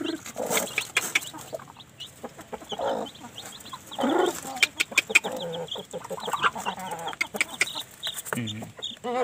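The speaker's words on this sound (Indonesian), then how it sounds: "Ini dia kandang anak ayamnya. Usianya ini baru 3 hari." Three-day-old Bangkok chicken chicks in their coop give off a steady stream of overlapping peeps and clucks, busy and fairly close throughout, with a voice talking now and then over them.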